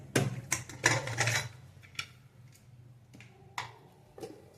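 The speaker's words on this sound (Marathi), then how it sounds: "कुकरचं झाकण काढूया।" A pressure cooker lid comes off after cooking chakvat greens, giving a few sharp metallic clanks and scrapes close by, spaced apart with quieter handling between them.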